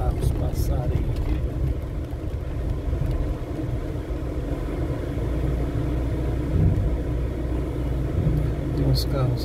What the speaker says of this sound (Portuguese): Vou deixar uns carros passarem aqui.